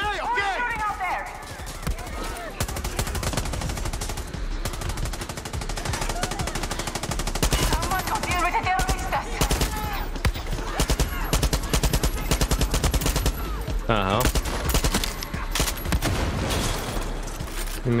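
Automatic and single gunfire from a Far Cry 6 firefight rattles in dense, sustained bursts over eighteen seconds, loud and continuous, with someone talking excitedly over the shooting.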